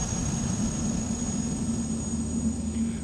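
A PA46 Malibu Meridian turboprop engine in X-Plane 11 spools up with its propeller RPM rising, producing a steady, loud droning hum with a constant high whine running through it and no break.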